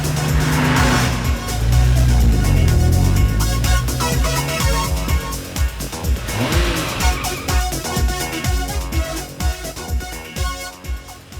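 A car roars off with its engine revving hard and tires squealing, loud and close, mixed with dramatic music.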